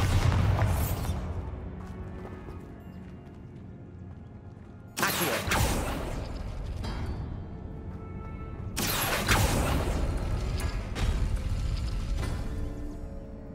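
Three heavy Bombarda spell blasts go off in Hogwarts Legacy on PlayStation 5, each a loud, sharp boom that rolls into a long rumbling decay, spaced a few seconds apart.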